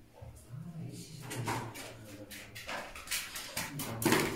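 Dogs moving and whimpering inside an abandoned sanatorium, with soft scuffles, faint yelps and a door or drawer sound, and people speaking in between.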